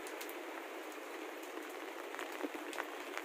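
Monsoon rain falls steadily on a rooftop garden full of potted plants, a constant soft hiss of drops with scattered light patters, heard alone without talk.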